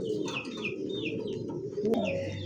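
Desi golla pigeons coo repeatedly and close by, soft low rolling calls overlapping with a few brighter chirps, steady throughout the short stretch with no voices.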